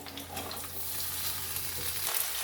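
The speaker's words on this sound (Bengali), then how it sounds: "সমস্ত সবজিগুলিকে ভেজে নিতে হবে" Beans, carrot, potato, capsicum, tomato and green chili fry together in a pan for a spicy vermicelli dish, giving a steady soft sizzle with faint stirring, close and continuous with no talk.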